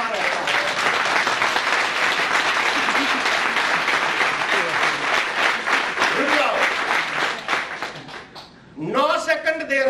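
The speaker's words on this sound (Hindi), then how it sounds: "नौ सेकंड में ऐसी ताली बजानी है कि हथेलियां लाल होनी चाहिए." An audience claps vigorously during a motivational speech, dense sustained applause that fades briefly near the end before a voice speaks and clapping resumes.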